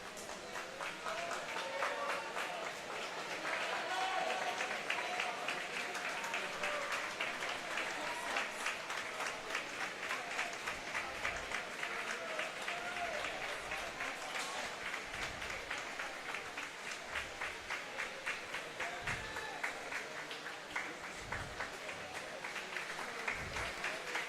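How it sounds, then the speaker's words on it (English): Spectators at a Hoffman Estates versus Palatine boys high school swim meet clapping steadily for a swimmer finishing his race, a continuous rhythmic patter echoing in an indoor pool, fairly faint and distant. "You can hear the crowd clapping once again for this swimmer as he finishes his race"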